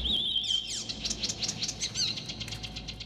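Birds chirp in Assassin's Creed Chronicles: China, a busy stream of bright, rapid tweets and sweeping calls repeating throughout, fairly close and clear over a low background hum.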